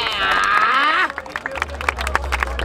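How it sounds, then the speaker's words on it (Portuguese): Applause at a Brazilian freestyle rap battle, Batalha da Aldeia in Barueri, SP. A loud tonal vocal burst comes first, then scattered crowd claps over a low hum. "Palmas pra essa batalha!"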